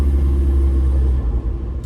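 TDI diesel-swapped Jeep TJ Wrangler engine rumbles loudly while driving, a deep steady drone that eases slightly toward the end.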